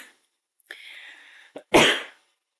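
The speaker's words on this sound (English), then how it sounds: "Cough, cough, immediately drinks coffee" A short dry cough comes first, then a longer rasp of throat clearing, ending in a sharp, louder cough, all close and alone with no talk.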